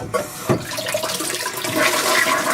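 A Japanese toilet flushes loudly up close, a click as the lever is pressed followed by a rushing swirl of water that keeps building and gurgling.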